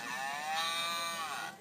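A person's voice imitates a cow's moo as a farm animal noise. One long, loud, drawn-out call is held close up, wavering in pitch and cutting off sharply.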